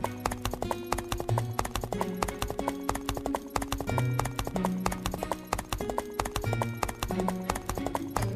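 A horse's hooves clop in a steady rhythm on a village road, loud and close, with background music playing underneath and no talking.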